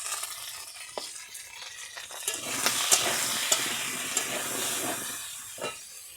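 Potatoes fry in plenty of oil with a little salt and turmeric while being stirred, giving a steady close sizzle and hiss broken by occasional scraping knocks of the spoon.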